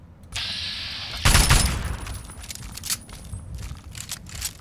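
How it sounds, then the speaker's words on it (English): Assault rifle fire in Fallout 3, a loud burst of gunshots that jumps in sharply, then settles into scattered, fainter shots and clatter. "Let's get out our assault rifle"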